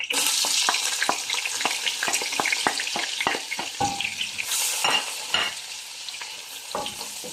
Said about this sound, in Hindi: ऑयल गर्म हो चुका है, प्याज डाल देंगे।